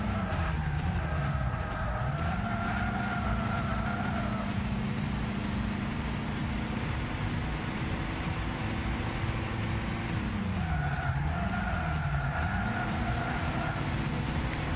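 Racing cars in Gran Turismo 6, one overtaking a Nissan Leaf, give a steady engine drone with rising and falling tones, a constant loud roar of motors on track throughout.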